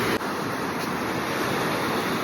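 Waves roll onto an uncrowded beach on an evening walk, a steady broadband wash of surf with some wind across the microphone, with no voices.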